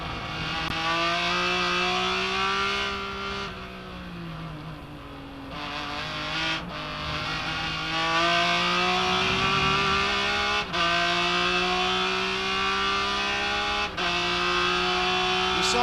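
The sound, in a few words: onboard race car engine at Sebring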